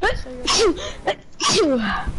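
A single sharp sneeze bursts out close to the microphone amid casual talk between players, followed by brief speech.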